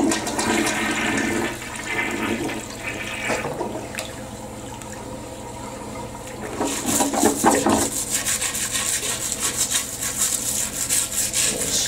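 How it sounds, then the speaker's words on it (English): Flushing toilet during a bowl cleaner test, a loud rushing swirl of water that eases off, then surges again into a gurgling drain, close and with no talk. "I'm gonna flush it."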